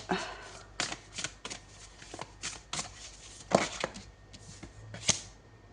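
Tarot cards being shuffled by hand before a card is drawn. Soft, close riffling and slapping comes in quick irregular bursts, quiet overall and alone without talk.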